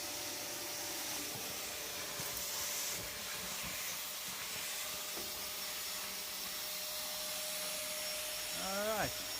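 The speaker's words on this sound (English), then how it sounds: "Got a lot of sucking power. Let it go right in there. Suck all this stuff out." A Shop-Vac wet/dry vacuum runs in a workshop, sucking up long-neglected debris with a steady loud whooshing roar and a faint whine throughout, briefly swelling near the end.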